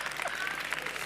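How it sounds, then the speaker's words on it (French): Audience applause at a youth award ceremony, a brief, even burst of clapping at moderate level with some voices mixed in. "Donc déjà, pour ça, applaudissez-vous"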